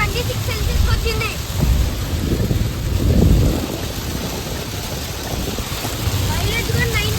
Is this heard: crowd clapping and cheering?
no